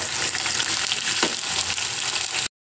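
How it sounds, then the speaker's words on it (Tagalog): Potatoes fry in oil with a loud, close, continuous sizzle and bubbling crackle, which ends abruptly. "itong patatas, potato. Piniprito muna."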